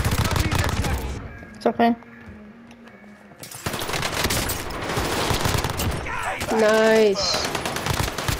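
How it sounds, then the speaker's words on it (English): Bursts of light machine gun fire in a first-person shooter game, rattling in rapid runs amid other battlefield gunfire and effects, with a player talking briefly over it. "I just pulled out a freaking LMG."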